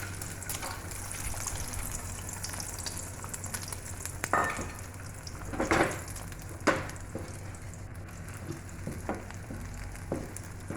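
Beaten egg for a capsicum omelette is poured into a hot oiled pan and fries with a steady sizzle, with a few louder splashy surges partway through as the liquid hits the pan and spreads.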